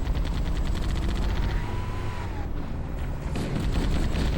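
Sustained automatic gunfire in the Halo video game, loud and dense with rapid overlapping bursts and rumbling battle noise throughout.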